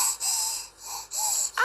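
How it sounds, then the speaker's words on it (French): A baby yawns in a quiet room, soft breathy wheezing exhalations in a few drawn-out pulses, close and faint, ending on a brief higher squeak. "Ah, tu bailles."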